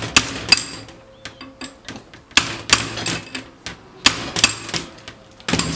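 A hammer strikes a drift on a TCM FG25N2S forklift power steering cylinder during removal, giving sharp metallic blows in three quick clusters, close and loud.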